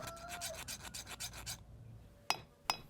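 A file rasps rapidly in repeated strokes across metal edges, smoothing them, then stops, followed by two sharp metallic clinks.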